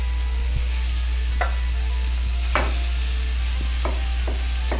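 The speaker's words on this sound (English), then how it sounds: "And we're just gonna dump that meat in there. Have your pan nice and hot, that you're gonna get it nice and brown right away." Meat browns in a hot pan with Crisco shortening, a steady close sizzle over a constant low hum, with a few sharp scrapes and knocks of the utensil scattered throughout and no one speaking.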